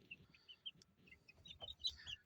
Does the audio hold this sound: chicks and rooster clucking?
yes